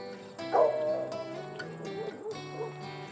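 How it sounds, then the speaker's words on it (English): A dog gives a few barks and whimpering yelps near a rural home in Seattle, a loud yelp standing out early before quieter whines follow over steady background tones. "Hi, doggy."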